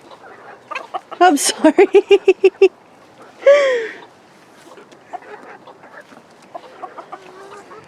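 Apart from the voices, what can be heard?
chickens clucking, hens on a farm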